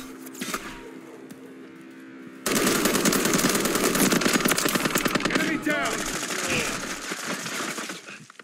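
Sustained automatic gunfire in Call of Duty MW3 bursts in loudly after a quieter opening and rattles rapidly for several seconds, with game voice chatter underneath.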